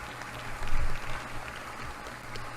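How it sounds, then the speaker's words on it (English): Brief applause for Capitol Police officers, a steady wash of clapping from an audience that swells slightly and then holds at a moderate level, somewhat distant and muffled. "They are true heroes, and they deserve all of our applause today."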